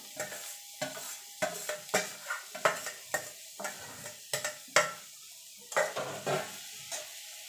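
Flaked katla fish is stirred into frying masala for fish chops: a spatula scrapes the pan in regular, close strokes about every half second over a faint sizzle, without speech.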